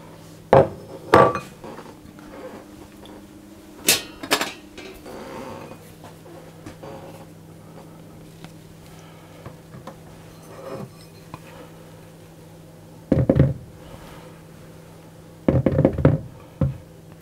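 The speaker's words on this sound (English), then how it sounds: "And I'm going to stir it round until I get it into a nice" Scone dough for corn cheese scone cups being stirred in a bowl, heard as scattered knocks and scrapes of a utensil against the bowl, with a few louder clunks between quieter stretches.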